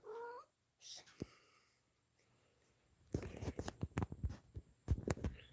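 A cat's meows come first, faint and near, followed by louder crackling, tearing and chewing-like noises toward the end, with a person talking to it around the sounds.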